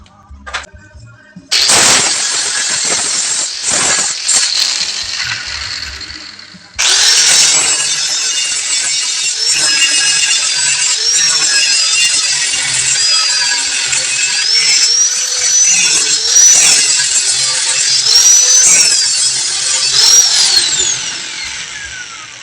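An angle grinder with a flap disc grinds welds on tubular steel window grills, a loud high-pitched whine starting with a short burst, pausing, then running steadily with shifting pitch as the disc presses the metal.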